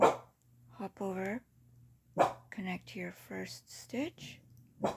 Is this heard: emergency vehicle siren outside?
no